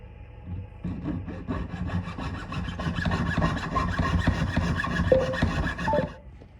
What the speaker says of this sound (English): cut it out real quick with my jeweler's saw.